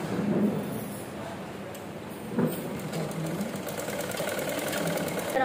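A sewing machine stitches the front neck of a child's langa jacket, a faint, steady mechanical whirr close by with a small knock partway through.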